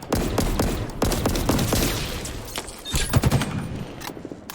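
Rapid bursts of Disruptor gunfire from the game Halo Infinite, dense and continuous with overlapping shots and impacts, loud throughout.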